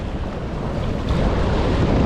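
Large ocean waves break at Siargao in a loud, continuous rushing roar that swells toward the end, heavily mixed with wind buffeting the microphone.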